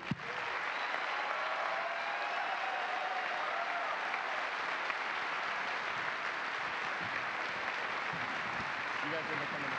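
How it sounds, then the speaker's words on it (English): Sustained applause from a large audience at a NASA announcement of the first commercial spaceship astronauts, dense and steady throughout, with faint voices mixed in the crowd. "Final applause before I turn it over to Mark Geyer."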